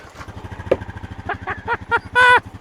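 A Honda Rubicon ATV engine cranks with a rapid, even starter chatter and then catches with a few sputtering pops and a final loud burst as it fires, close by.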